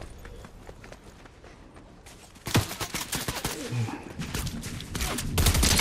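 Video game gunfire, a burst of sharp rapid shots that breaks out partway through over quieter ambient shuffling and footsteps, loud and close, then continues in scattered volleys.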